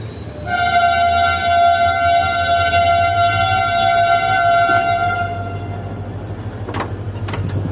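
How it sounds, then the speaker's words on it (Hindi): Shah Latif Express train on its inaugural Karachi to Mirpurkhas run, hauled by locomotive 8225, sounding a long, loud multi-tone horn blast lasting about five seconds over a low rumble of the moving train. "ट्रेन ने अपने विसिल्स दे दिए हैं।"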